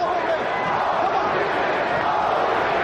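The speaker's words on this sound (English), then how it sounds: "Crowd trying to chant Holyfield." A large boxing arena crowd roars and chants for Holyfield during a heavyweight fight against Lewis, a dense steady wall of voices filling the space, loud and continuous with no clear pauses.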